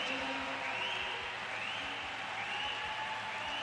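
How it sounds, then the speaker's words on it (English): A crowd applauds steadily at the 2012 London Paralympic swimming pool, a continuous wash of clapping in a large reverberant hall, with faint tonal sounds drifting through it. "Mark Evers still taking huge applause."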